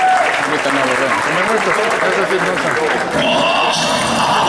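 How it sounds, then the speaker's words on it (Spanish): Audience applause and cheering at a Diablada folk dance performance, a loud sustained crowd clapping under an announcer's voice speaking Spanish over a microphone. "Fuerte el aplauso, por favor."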